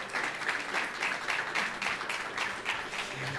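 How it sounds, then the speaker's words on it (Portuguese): A church congregation applauds during a sermon, giving steady, moderately quiet clapping from many hands with a gently pulsing rhythm. "Quem pode aplaudir o Espírito Santo aqui?"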